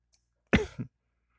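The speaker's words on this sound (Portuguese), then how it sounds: "Essa minha tosse tá acabando comigo." A single harsh cough from a man, close to the mic, a sharp burst followed by a shorter second hack, then silence.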